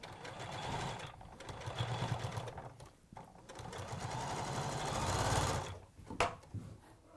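A sewing machine runs in long stitching bursts while seams are fed through for a quilted wall hanging or cushion, a rapid droning chatter that pauses briefly and restarts, close and clear without talking.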